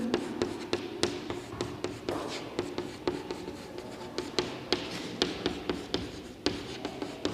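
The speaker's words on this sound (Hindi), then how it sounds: "तो मैं इस रिएक्शन को लिखती हूँ" A teacher writes a chemical reaction on a classroom board, a close run of quick chalk taps and short scratchy strokes in an uneven rhythm, with no talking.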